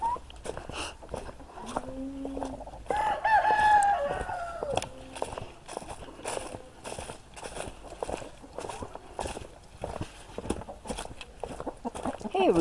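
A farm rooster that shares a yard with turkeys and goats gives one loud crow near the middle, surrounded by scattered clucks and shuffling footsteps close by.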